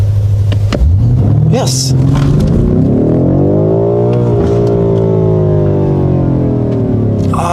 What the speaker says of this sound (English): But maybe we could do a launch control anyhow. Let's try it.